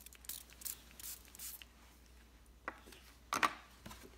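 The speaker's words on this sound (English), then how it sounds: "I think I'll spray it" A handheld spritzer sprays water over a craft piece in several short hissing bursts, quiet and close, with soft handling noises between them and a louder double burst near the end.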